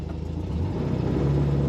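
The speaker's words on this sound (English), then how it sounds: "Nice sounding Volkswagen." A 1971 Volkswagen Super Beetle convertible's engine idles in a low, steady, even rumble, fairly quiet and alone with no voices.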